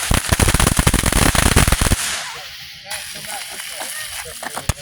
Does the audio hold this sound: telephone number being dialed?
no